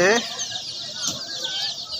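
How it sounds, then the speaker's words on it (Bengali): A delivery of 800 day-old Egyptian Fayoumi chicks gives a dense, continuous chorus of high, thin cheeping close by, with a voice heard briefly at the start. "একদিন বয়সের ফাউমি, অরিজিনাল মিশরীয় ফাউমি মুরগির বাচ্চা 800 পিস"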